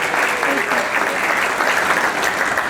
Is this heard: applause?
yes